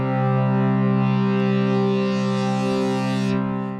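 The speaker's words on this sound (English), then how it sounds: "this is a digitally created distortion, but it sounds very nice" A DSI Poly Evolver synthesizer holds a sustained note through its digital distortion, giving a loud, gritty, harmonically rich tone that stays steady for a few seconds before tapering slightly.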